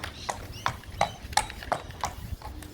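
Parading racehorse walking out at a stable open day, hooves clip-clopping in a steady, even four-beat rhythm, close and clear with faint background noise.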